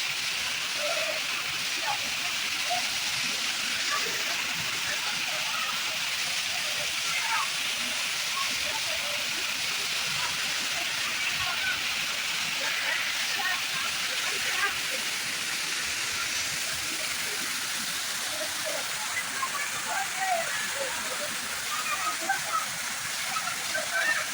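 Mayil Ootru waterfall in the Pachamalai hills pours steadily, a broad constant hiss of falling water that continues unchanged for the whole stretch.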